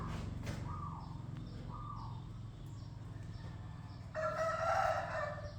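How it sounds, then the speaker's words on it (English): Cockerels crow around a house in rural Thailand: two nearby crows come in quick succession, then a louder, longer crow follows, with faint clucking and ambient hum beneath. "There's them cockerels again."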